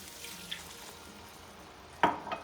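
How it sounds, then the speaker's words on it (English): Marsala wine is poured into a pan of sausage and peppers. A faint, steady frying hiss gives way to a sharp, sizzling burst near the end, followed by a smaller flare. "now we can add our secret ingredient, which, as I explained, was the 1 cup of Marsala wine"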